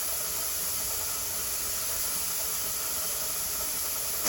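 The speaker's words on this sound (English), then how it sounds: "you can hear the venting, what it sounds like with a steady stream of venting" An All American pressure canner vents a steady, unbroken stream of steam, a close, even hiss that holds constant throughout with no talking.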